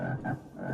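A soul mob from a Minecraft mod lets out a single short frog croak, a low, throaty, wavering call heard close and alone.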